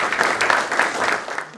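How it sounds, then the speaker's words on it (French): Audience applause at a World Press Freedom Day ceremony at the US embassy, a short, dense burst of clapping heard alone. "je vous prie d'applaudir Madame l'ambassadeur"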